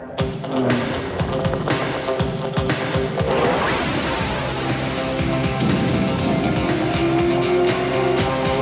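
A Nissan GT-R race car with a 2.5-litre six-cylinder engine, driven by Mark Gibbs at Bathurst, roars along in a loud, continuous engine drone with shifting pitch and mechanical clatter throughout.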